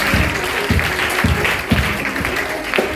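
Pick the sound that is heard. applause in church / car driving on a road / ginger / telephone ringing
applause in church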